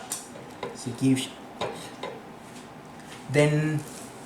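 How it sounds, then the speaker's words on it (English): Pancakes being plated, with dishes and cutlery clinking and scraping in several separate knocks, some louder, while a voice talks in between. "I'm gonna get the pancake out, and then I'm gonna put 2 pancakes on each other"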